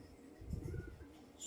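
Racing pigeons coo softly at a loft in Balagtas, a few low, burbling calls in the middle over quiet background.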